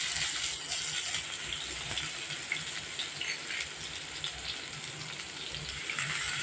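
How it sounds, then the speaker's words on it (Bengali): Chopped onions fry in oil with a continuous, fairly close crackling sizzle that stays steady from start to finish. "এখানে আমি তিন চারটি পেঁয়াজ কুচি নিয়েছি ভাজতে দিয়ে দিলাম"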